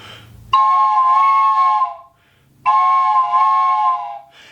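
A toy whistle imitating a train whistle gives two loud, chord-like blasts, each about a second and a half long with a short pause between them.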